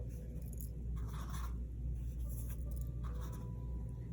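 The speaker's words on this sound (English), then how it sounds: "let's draw a circle in the middle of each wheel" A pencil scratches out circles on paper, drawing bicycle wheels, in a few short soft scraping strokes over a steady low rumble.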